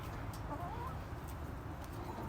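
A rooster on a farm clucks softly and steadily over a dense, continuous background of farmyard noise, close by and fairly quiet, with no voices.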